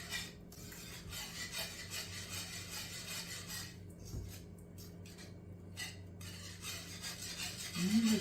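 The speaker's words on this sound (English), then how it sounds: "Just give it a good swirl with your whisk, and they will break up really easily" A whisk swirls through sauce for chicken a la king, producing a soft, rhythmic rubbing and scraping against the pot, quiet and close, with brief gaps in the texture and no voices.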